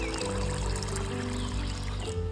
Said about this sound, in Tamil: அதுக்கு தேவையான அளவு தண்ணி விட்டு 1 மணி நேரம் நாங்கள் ஊற விடணும்.